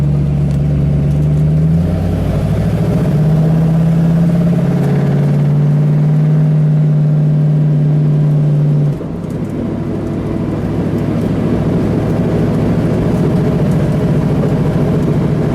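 A 1972 AMC AMX Javelin's 401 engine roars loudly, its pitch climbing through gears as it revs and accelerates down a straightaway, then dropping off into a lower steady drone.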